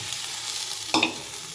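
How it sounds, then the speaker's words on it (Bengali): Potatoes go into a pan of soya curry and get stirred and fried, a soft sizzle throughout with a brief scrape and clatter near the middle, close and fairly quiet. "এখন আলুগুলো দিয়ে দিই।"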